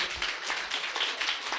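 A church congregation at a Sunday service claps in praise for God, a brief patter of scattered applause at moderate distance, fairly quiet and steady.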